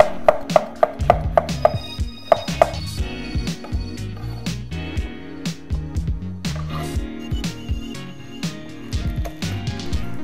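Knife cutting chikuwa fish cake into sticks on a cutting board while making yaki udon, a quick run of sharp even chops at first, then looser irregular cuts and knocks.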